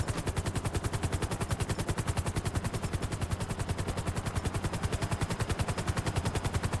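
Sustained automatic machine gun fire from an in-game weapon in GTA 5 Online, a loud rapid regular burst of shots continuing unbroken throughout with no talking.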